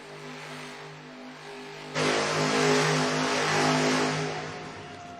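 Gravedigger monster truck revving in a Monster Jam donut competition in an arena, a loud engine drone that surges suddenly into a heavy roaring rev, holds, then eases slightly.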